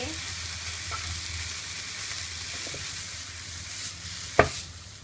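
Papaya stir-fried with small shrimp and egg sizzles steadily in a pan with a soft constant hiss, a few light stirring scrapes, and a sharp knock near the end.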